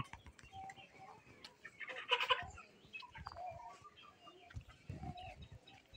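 Fayoumi chickens on a poultry farm give off faint distant clucks and one louder burst of fowl calls in the middle, with scattered scuffling around them and no talk.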